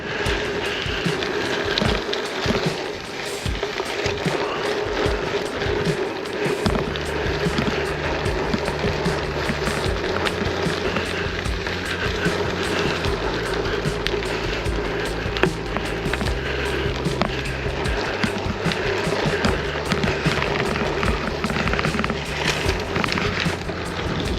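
A Planet X Tempest Ti bike rides along a rooty wooded trail, with continuous rumbling tyre and frame noise, rattling over roots and steady wind buffeting close to the microphone, and no talk.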